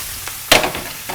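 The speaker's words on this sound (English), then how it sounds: "It's sounding like it's searing." Fish sears in a frying pan, giving a soft background hiss broken by one sharp burst of spattering sizzle that fades, with a smaller flare near the end.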